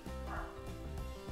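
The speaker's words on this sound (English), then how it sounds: "there's probably going to be some dog barking in the background" A dog barks and yips somewhere in the background, a quick muffled burst of a couple of sounds over steady room noise.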